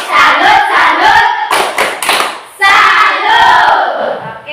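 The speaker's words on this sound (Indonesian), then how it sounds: "Tepuk tangan buat Mei." A classroom of students claps and cheers in bursts of dense, loud applause mixed with shouting voices, pausing briefly before a second swell.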